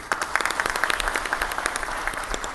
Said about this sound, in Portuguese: Uma salva de palmas para o acadêmico